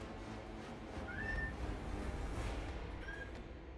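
Kittens meowing in a game, two short high mews about two seconds apart, rising over a steady, loud background hum.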